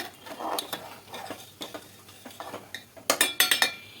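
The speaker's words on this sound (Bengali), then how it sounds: "এবার খুব ভালো করে মিশিয়ে নেব" A ladle stirs and scrapes a rice mixture for hilsa biryani in a metal pot, with irregular clinks and knocks that grow sharper and quicker toward the end over a faint sizzle.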